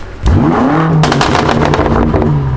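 A sports car engine, a McLaren 720S or Lamborghini Urus, fires up and revs hard nearby, the pitch rising then settling into a loud, throaty rumble with crackling bursts.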